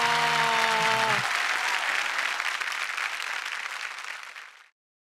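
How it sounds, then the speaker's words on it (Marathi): A television studio audience breaks into loud, sustained applause for Medha Manjrekar on a Marathi comedy show, with a short musical sting over the first second. The dense clapping fades slightly before stopping abruptly. "जोरदार टाळ्या झाल्या पाहिजेत मेधा मांजरेकर यांच्यासाठी."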